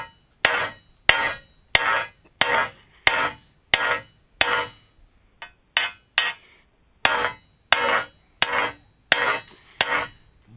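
A hammer strikes a wheelbarrow's metal wheel again and again in a steady rhythm, each blow sharp and ringing, with a brief pause midway.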